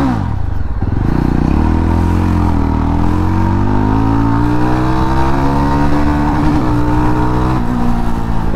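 A Yezdi Roadster 350 motorcycle with an aftermarket exhaust being ridden, giving a loud, steady, close engine drone whose pitch gradually climbs as it accelerates.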